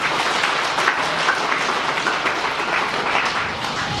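A church congregation applauding for the Lord during a sermon, sustained crowd clapping filling the whole stretch at an even, loud level.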